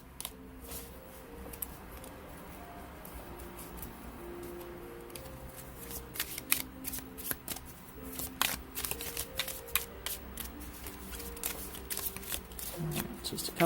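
A deck of tarot cards is shuffled up close in repeated quick riffles and soft flutters, the crisp card snaps growing denser toward the end, fairly quiet overall.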